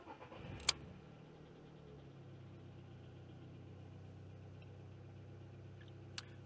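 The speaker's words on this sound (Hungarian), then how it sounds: "hogyha beindítom az autót" A car engine starts on a freezing morning near zero degrees, with a brief sharp click or key sound, a short cranking catch, then a quiet, steady low idle hum that continues, ending with another small click.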